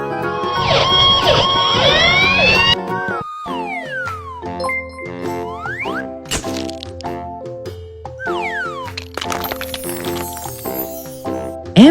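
A cartoon fire engine siren sweeps up and down over a busy children's tune with chimes and dings, loud and close, then breaks into sliding musical tones and clicks.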